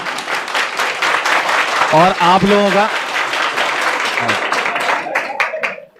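A classroom of students claps loudly and steadily for their teacher Ritesh sir, dense applause filling the whole stretch, with a voice talking over it partway through.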